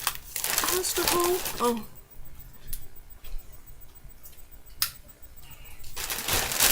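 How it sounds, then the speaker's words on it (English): A plastic shopping bag of groceries rustles and crinkles close by, loud at first under a person's talk, then scattered softer crackles and sharp crinkles as it is handled. "let's get rid of the rustling"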